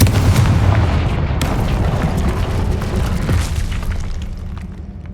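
A Confringo fire spell detonates in the Hogwarts Legacy video game, a loud booming blast with a sharp crack near the start, followed by rumbling, crackling debris that stays dense and heavy for several seconds.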